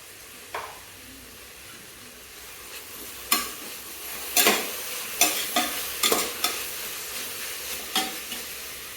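Mint and coriander leaves sautéing in a pot for mutton biryani, soft frying hiss under a series of distinct spatula stirring scrapes and clacks repeating every second or so, close and clear, no voices.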